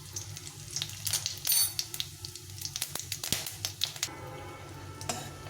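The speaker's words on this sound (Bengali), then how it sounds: "মশলাটা একটু ভাজা হয়ে গেছে।" Bay leaf and cumin crackle in hot oil with a dried red chilli in a home kitchen pan, a steady close sizzle with sharp spattering pops and a few louder bursts, with no talking.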